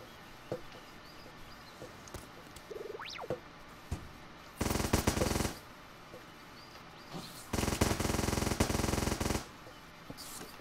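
Guards' guns firing in the video game Starbound, two sustained bursts of rapid automatic fire a few seconds apart, loud against a quiet game backdrop with small blips between.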